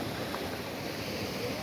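Water pours out of Saif ul Malook lake on the road up from Naran, making a steady, dense rushing roar with no break. Wind noise blends into the continuous flow throughout.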